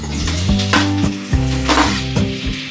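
Pork added back to a pan with homemade bagoong, a loud close sizzle with spatula scrapes and knocks against the pan at an uneven rhythm, no voices over it.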